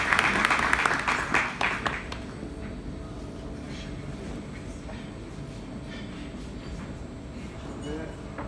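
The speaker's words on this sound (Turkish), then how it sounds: "alkışlarla kürsüye davet ediyoruz efendim" At a tourism workshop, the audience claps as a speaker is invited to the podium. The applause is loud at first and fades within about two seconds, leaving a quiet room hum.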